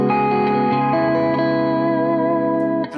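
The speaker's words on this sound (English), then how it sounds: "I'm going to use a plate reverb for this one" Electric guitar played clean with the overdrive switched off, run through a plate reverb pedal: sustained ringing chords with a shimmering, dense tail that blooms and lingers, loud and close, with no voices.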